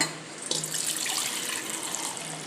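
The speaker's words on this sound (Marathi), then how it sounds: "या तांदळावरचं पाणी फेकून द्यायचं आहे" Water from soaked rice is poured off in a steady, close splashing stream that runs continuously with no talking.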